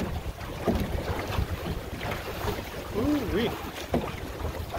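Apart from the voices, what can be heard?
gusty wind on a Drascombe Lugger sailboat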